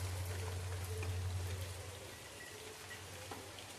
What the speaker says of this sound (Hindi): और फुनफुना रहा है बारिश